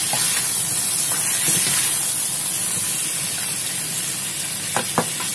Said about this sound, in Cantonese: 兩邊都煎咗之後咧，就兜佢